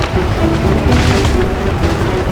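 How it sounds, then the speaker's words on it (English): British cannon and musket fire from the Battle of Assunpink Creek, rendered as a loud, continuous, dense rumble of battlefield gunfire with no clear pause across the whole stretch. "British cannon and musket fire ensued."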